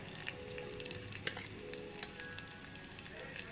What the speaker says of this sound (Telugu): ఇవి ఆయిల్లో చిట్పటాయించాలండి.